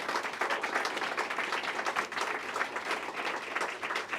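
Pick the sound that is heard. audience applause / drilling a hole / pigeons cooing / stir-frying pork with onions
audience applause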